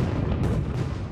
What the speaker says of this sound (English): So when the sound of the artillery reached Fort George, Brock leaps out of his bed and immediately